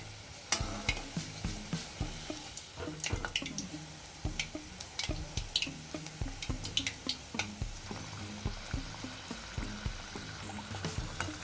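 Wheat flour samosas fry in hot oil with a continuous sizzle, broken by repeated sharp clinks and scrapes as they are turned and stirred in the pan, heard up close with no talking.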